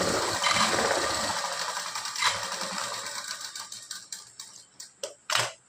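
A sewing machine runs steadily while press-stitching a tucked blouse, a continuous mechanical whir that thins into a few separate clicks and short bursts toward the end.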